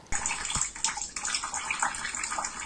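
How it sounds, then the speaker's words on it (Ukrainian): Meltwater from a thawing roof pours through the ceiling into an apartment in a multi-storey building, a steady close gush and splatter of falling water with no voices. "Вода тут лилася зі стелі."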